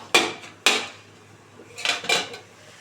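A metal lid comes off a pan of simmering cabbage with a fish head nearby: two sharp clanks close together, then a short pause and a couple more rattling knocks.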